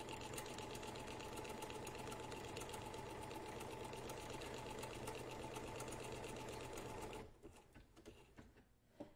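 Sewing machine with a circular embroidery attachment stitching a decorative pattern, a fast, steady, close mechanical whirring and ticking that runs continuously, then stops abruptly near the end, leaving quieter clicks.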